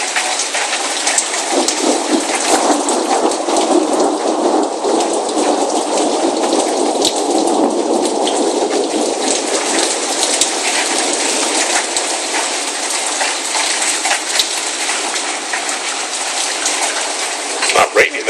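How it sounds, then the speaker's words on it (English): Steady, loud rain pours through a thunderstorm with lightning, a dense continuous hiss filling the whole stretch without letting up, with no clear thunder clap standing out. "It's not raining that hard, it's just lightning."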